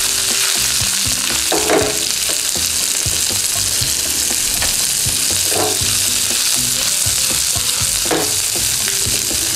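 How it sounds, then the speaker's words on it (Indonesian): Coarse spice paste with roasted shrimp paste and red tomato being sautéed in hot oil for lempah kuning or asam pedas: a loud, steady sizzle that fills the whole stretch, with brief stirring scrapes every few seconds. "Kita mau tumis dulu bumbunya."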